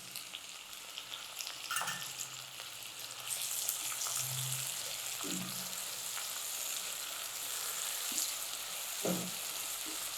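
Tomatoes added to a hot pan for brinjal thokku, a steady close sizzle of frying with occasional stirring scrapes, no voices.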